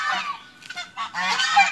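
Harsh, nasal honking calls from ducks, several bursts in quick succession, close and fairly loud with no talking.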